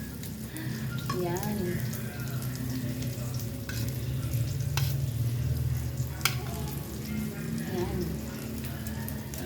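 Fried rice with egg and vegetables frying in a pan, a steady close sizzle with scraping stirs and occasional clinks, while a person talks over it.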